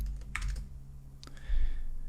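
Typing on a computer keyboard while coding, a short run of close, crisp key clicks in small bursts with brief pauses over a low steady hum.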